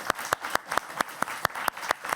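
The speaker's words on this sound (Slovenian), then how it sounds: "Aplavz, čestitamo!" A small group claps in a steady, even rhythm, about ten distinct claps in quick succession, moderately close and with no talking, as a cheer for the hardest-working party in the Slovenian parliament.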